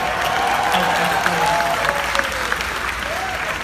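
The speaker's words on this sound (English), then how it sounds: "I'm so excited I'm clapping." Steady audience applause with some cheering at a Star Wars: Galaxy's Edge presentation, continuous crowd clapping throughout with voices mixed in.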